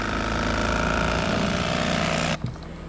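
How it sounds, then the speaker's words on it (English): A cordless lithium electric Bubba Blade knife skins a mangrove snapper fillet with a loud, steady buzzing whine that cuts off abruptly near the end. "I take this electric Bubba blade. It's a cordless model, the lithium model"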